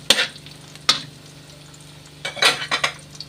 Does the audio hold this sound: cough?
no